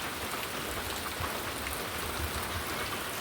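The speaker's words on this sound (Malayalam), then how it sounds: "മഴ അങ്ങനെ പെയ്തുകൊണ്ടേയിരിക്കുന്നു." Heavy rain keeps falling on a waterlogged courtyard, with runoff dripping from the eaves, making a thick, unbroken wash of splashing drops at constant loudness and with no talking.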